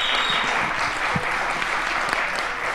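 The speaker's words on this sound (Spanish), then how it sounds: "Un aplauso para Don Patch." Applause from a convention audience for Don Patch of Bobobo at Starraco Unlimited 2023, a steady dense wash of clapping that holds evenly across the whole stretch with no talk over it.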